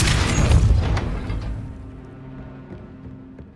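A heavy stone gate grinds upward after a Depulso spell in the Hogwarts Legacy game, opening with a loud deep rumbling boom that slowly fades and settles into a low mechanical grind.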